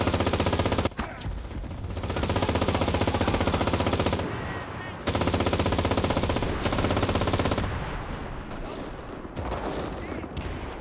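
MG position firing in Enlisted, the World War II shooter, loud rapid bursts of automatic gunfire broken by short pauses, with battle noise around it.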